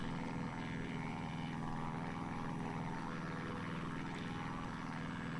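The propeller engine of a Christen Eagle II aerobatic biplane hums in a steady, continuous drone in the DCS flight simulator, a dense mid-level engine and prop noise with no talking.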